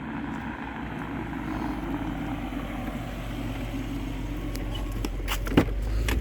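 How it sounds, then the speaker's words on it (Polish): An Audi A8 4.2 V8 approaches with a steady low engine rumble that stays constant and fairly loud throughout, mixed with broadband road and wind noise. A faint thump comes near the end. "10 sierpnia 2022 roku nadjeżdża Audi A8, a za kierownicą Bartłomiej, nie Bartosz"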